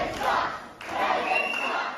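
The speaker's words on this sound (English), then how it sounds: "The crowd letting them know what they feel about Kevin Kent." Wrestling crowd at an ORW Seaside Slam 2025 show jeering Kevin Kent, a loud sustained roar of many voices that briefly dips then swells again.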